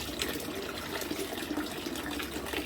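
Water is poured steadily over a cat named Crinkles during a bath, a continuous close splashing and trickling rush with no talking.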